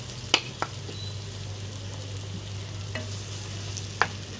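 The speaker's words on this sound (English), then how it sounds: "So I'm going to mix everything well" A utensil stirs a coarse fresh tomato paste in a frying pan over a low steady hum, with a few sharp scraping clinks spaced irregularly against the pan and a faint sizzle underneath.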